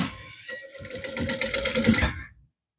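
A sewing machine backstitches on a sublimated A4 bag measuring 35x25x10 cm, a short close burst of quick mechanical clatter that builds for about two seconds and then stops.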